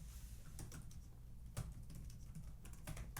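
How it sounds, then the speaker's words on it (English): Rapid, uneven clicking of fingers typing on a computer keyboard, close and moderately quiet, in irregular bursts with one louder keystroke near the middle. "Typing it out."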